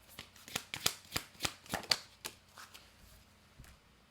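Oracle cards from a Divinely Me Volume 2 deck being shuffled and pulled, a run of crisp riffling flicks close by, loud at first and then fading into quieter rustles.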